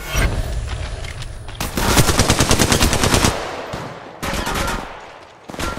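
Automatic weapon fire in the mobile shooter Apex Legends Mobile, with long rapid bursts of close, loud gunshots separated by short pauses.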